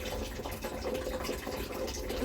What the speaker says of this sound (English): I'm just waiting for this cistern to fill up